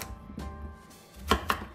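A knife chops through zucchini on a cutting board, a few crisp, close knocks with short pauses between cuts.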